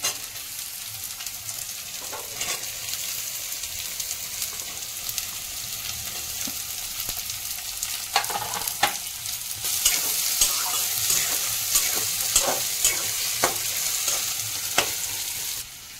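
Beans and capsicum stir-frying in a pan with a little salt for cheese paneer Maggi, a close steady sizzle with repeated scraping stirs that grows louder partway through.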